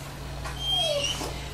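Dog whimpering with a short rising yip, close by over a steady low hum, brief and thin, no talking.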